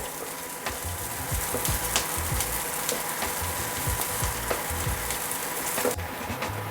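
Chopped onion fries in hot oil until soft, making a steady close sizzle throughout with repeated scraping stirs of a spatula against the pan. There is no talking.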